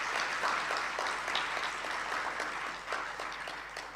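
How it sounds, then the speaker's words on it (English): Audience applause at a university teaching and learning excellence awards ceremony, steady dense clapping filling the room for the whole stretch, with no talk over it. "And we can give them a round of applause."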